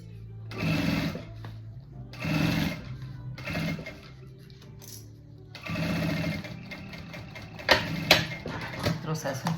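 A sewing machine stitches a lining to a zipper with the presser foot against the zipper teeth, running in several bursts of rapid mechanical stitching separated by pauses, close and fairly loud, with faint clicks between runs.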